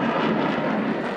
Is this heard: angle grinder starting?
no